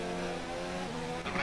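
An F1 car engine in the F1 2019 racing game at Monza holds a steady high whine with layered harmonic tones, fairly quiet, briefly dipping near the end before rising again.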